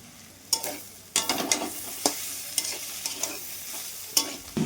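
Onions stir-fried in a pan with crumbled fried fish roe and kitchen king masala: a steady soft sizzle, broken by sharp scraping clatters of the spatula against the pan at irregular moments, close up, with no voices.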